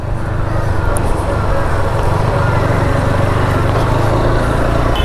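A TVS Apache RTR 160 4V motorcycle riding along a city road, its steady engine drone and low road rumble continuous and loud throughout, with wind noise over the top.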